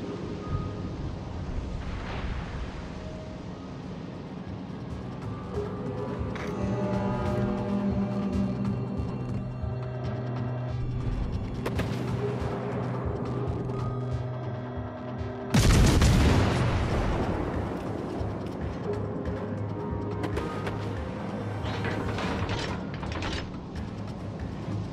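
Naval gunfire in World of Warships: Legends, with a steady mechanical rumble and layered tones building to one loud, sharp broadside blast near the middle, followed by continuing low rumbling.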